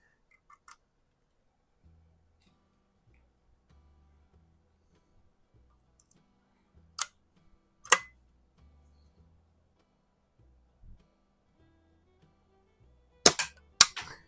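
A repaired Crosman 73 Saddlepal air rifle fires pellets at a steel target, several sharp isolated cracks spread across the quiet, one followed by a quick ricochet ping and rattle, with faint handling clicks between.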